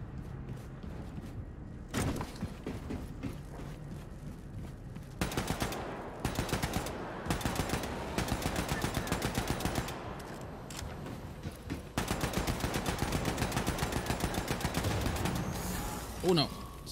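Automatic weapons fire in Wolfenstein 2: The New Colossus, with several sustained bursts of rapid shots separated by short pauses, loud against a low background hum.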